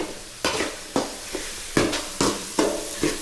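Ingredients for egg pasta fry in a pan with a steady sizzle, broken by about seven rhythmic stirring scrapes roughly every half second, close and moderately loud with no voices.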